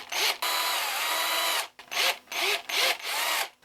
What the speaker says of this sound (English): First I'll drill a little guide hole.